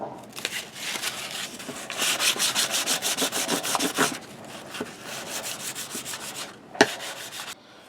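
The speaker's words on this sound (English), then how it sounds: "I've just found some 1200 grit wet dry sandpaper, so I'm going to carry on with that" Knife blade being hand sanded with fine 1200 grit wet-dry sandpaper, a steady run of quick rhythmic scraping strokes, close and fairly soft, with a brief pause and a single sharp tap near the end.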